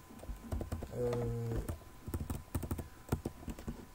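Fingers tap the keys of a laptop QWERTY keyboard in quick, irregular bursts of close, light clicks, with a brief steady tonal hum partway through.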